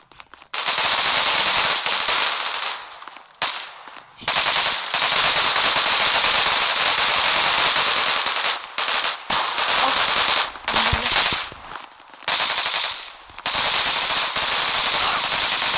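Loud, near bursts of automatic gunfire from the mobile shooter game Zula Mobile, long sustained volleys broken by short pauses with no talking.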